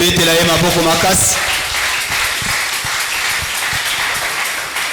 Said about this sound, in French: Est-ce qu'on peut l'applaudir, le Seigneur?